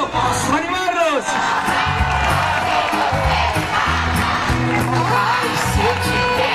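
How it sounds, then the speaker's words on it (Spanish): A crowd cheers and shouts at a Spanish vacas bravas grand prix bull event in Valoria la Buena, Valladolid, loud and sustained, with whoops and an amplified announcer's voice over the noise. "¡Un aplauso! ¡Animarlos!"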